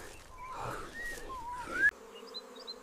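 Angry bees buzzing in a dense, droning swarm, a continuous wavering hum with rising whines, then cutting to a quieter steady buzz with faint higher tones.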